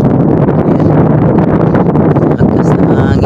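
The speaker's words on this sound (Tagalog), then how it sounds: "Lakas na hangin." Steady, loud wind during a night fishing trip buffets the microphone, a continuous roaring rush with no pauses.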